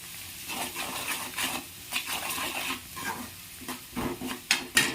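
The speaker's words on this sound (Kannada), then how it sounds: "ಖಾರ ಹಾಕಿ ಒಂದು ಸ್ವಲ್ಪ ತಿರುಗಾಡಿಸ್ಬೇಕು." Rice with egg is stirred in a pan after chili powder goes in, giving repeated scraping strokes of a utensil against the pan over a soft sizzle, close and irregular.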